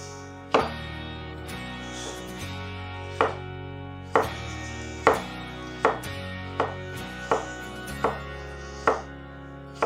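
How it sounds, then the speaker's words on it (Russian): A knife finely chops a cucumber on a board, about a dozen crisp, sharp knocks in an uneven but steady rhythm, close up with no talk. "Итак, я возьму один огурец и меленько тоже порежу."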